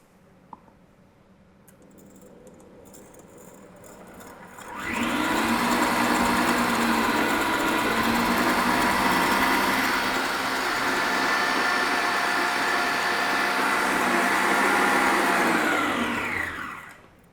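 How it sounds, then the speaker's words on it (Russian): An electric mixer whips egg whites with sugar into meringue at medium-high speed. The motor sits quiet at first, then starts with a sudden loud, steady whirring hum that holds evenly until it winds down at the end. "Взбиваем сразу на средней высокой скорости и не меняем."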